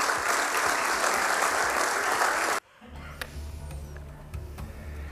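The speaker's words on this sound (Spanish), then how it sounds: "Así que también un aplauso para ella." Audience applause at an inauguration event fills the first half at a dense, steady level, then cuts off abruptly into a quiet room with faint low hum and scattered small sounds.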